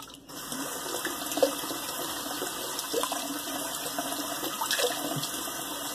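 Tap water runs steadily and continuously, close and moderately loud, wetting a super-high-density 24 mm two-band badger shaving brush knot, with a few faint knocks and squeaks over the flow.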